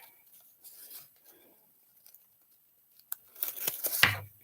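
Scissors cut through craft material for a Dollar Tree Christmas tray, producing faint, scattered snips that give way to a few sharper, louder cuts and rustling toward the end, with no talking.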